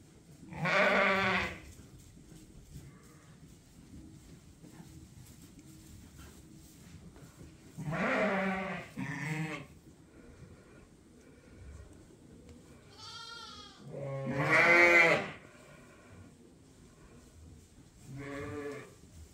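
On a farm, a ewe and her newborn lamb bleat in several separate calls spaced across a quiet background, some cries deeper and some higher and wavering, fairly close.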